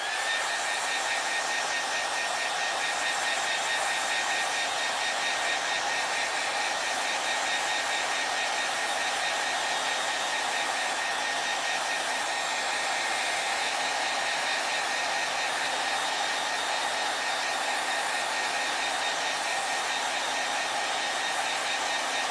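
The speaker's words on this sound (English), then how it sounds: "we're gonna go ahead and blow dry our canvas" A hair dryer blows steadily on a freshly painted canvas during a paint-night class, a constant loud whirring hiss that runs unchanged the whole time with no talking.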